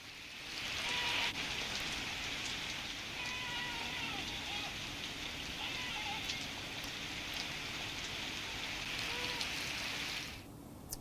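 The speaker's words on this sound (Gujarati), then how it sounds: "અચાનક વરસાદ ખાબક્યો હતો" Unseasonal rain in Gujarat falls as a steady, even hiss of drops on surfaces, constant across the whole stretch before cutting off near the end, with faint animal bleats or calls drifting in from a distance.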